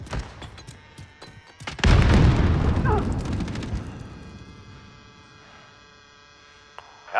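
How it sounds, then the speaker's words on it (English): A grenade explodes in Call of Duty: Modern Warfare (2019) on the Shoot House map, a single loud, close boom whose rumbling tail fades over several seconds, with faint gunfire clicks before it. "Throwing grenade!"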